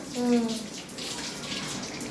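A short splash of water being poured by hand onto a sofa at home, close and fairly loud, with a voice talking faintly underneath.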